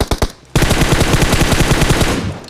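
Rapid automatic gunfire from PUBG gameplay: a few separate shots, a brief pause, then a loud, sustained burst of fast, evenly spaced rounds close up, with no voices.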